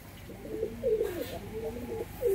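Giribaj pigeons coo in a loft, several soft throaty coos rising and falling in an irregular rhythm, close by and fairly loud, with no talk over them.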